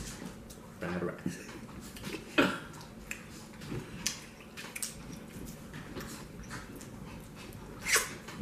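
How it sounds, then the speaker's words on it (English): Puppies whimper faintly and scamper about in the background of an indoor seafood boil meal, with scattered soft clicks, pattering and dish clatter throughout. "I hope y'all don't hear the Riri puppies in the back"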